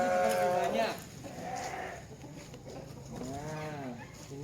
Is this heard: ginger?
no